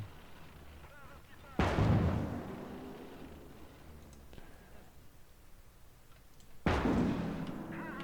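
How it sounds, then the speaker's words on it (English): Anti-tank rifle firing in the video game Conquest Enhanced, two loud booming shots several seconds apart, each with a long rumbling decay, plus a fainter distant report between them over low background battle noise. "Also, our AT rifle is engaging, which is good."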